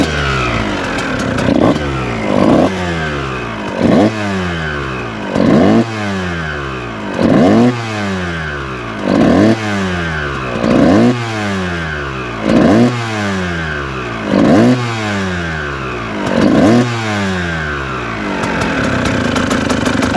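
A Kawasaki KX125 two-stroke dirt bike engine with many renewed parts, running nearby and being revved repeatedly, with about ten sharp throttle blips rising over a rattling idle at a steady rhythm.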